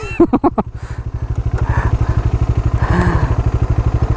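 A Bajaj Dominar motorcycle engine labours up a steep hill, a loud, close, rhythmic thumping exhaust pulse that holds steady throughout with a brief rise in revs near the end.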